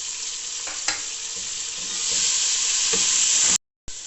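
Chopped tomatoes hitting hot frying masala with cumin and whole coriander, giving a loud, steady, close sizzle with a few stirring clinks and no talk.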